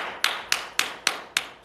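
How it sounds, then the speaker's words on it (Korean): One person gives loud, sharp hand claps, six evenly spaced cracks in under two seconds, close and alone in a quiet room during a K-pop idol livestream. "박수 소리 너무 커"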